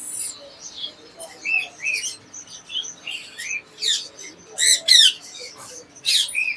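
Green cheek conures give sharp, scratchy squawks and chirps in short repeated bursts, close and fairly loud over a quiet background.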